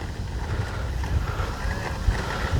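Strong wind buffets the microphone at an RC flying field during a Tecnam model plane's first flight, in a steady, rumbling roar with occasional louder gusts. No voices are heard.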